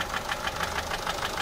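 Idling 1.6 HDI diesel car engine fitted with a turbo, giving off white smoke, running with a strange uneven noise: a steady mid-pitched drone with regular knocking pulses, heard close and alone.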